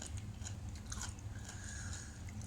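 Someone chews som tam papaya salad up close, with soft repeated crunchy bites and wet mastication over a low background hum.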